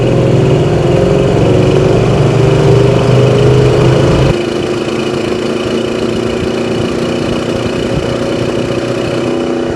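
A 1967 Plymouth GTX with its 440 engine pulls hard while driving, a loud, close, steady drone that drops in pitch and level part-way through as the car shifts, then settles into a lower cruising hum.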